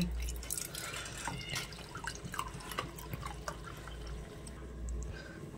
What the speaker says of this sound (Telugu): ఇప్పుడు చిల్డ్ వాటర్ ఉన్నది నా దగ్గర, కూల్ వాటర్, దీంట్లో వేసేస్తా.